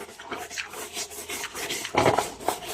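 Repeated scrubbing and rasping strokes of a brush against a washing machine lid, close and steady, with a louder burst of scrubbing near the end.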